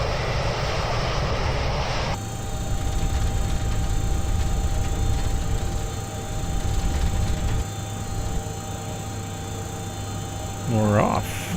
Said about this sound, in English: We're off. Much smoother, much nicer takeoff.